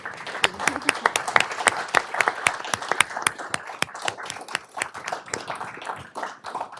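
A round of applause from the audience for the panelists at a policy event on nuclear and biological risks, with crisp individual claps from a small crowd close by, continuing steadily for several seconds before thinning out.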